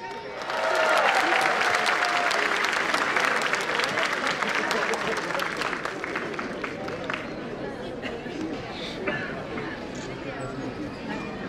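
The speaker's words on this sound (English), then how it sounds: "You need to just cheer them up." Applause and cheering from an audience at a school annual function, loud clapping with shouts that gradually thins into scattered claps and crowd chatter as people talk over it.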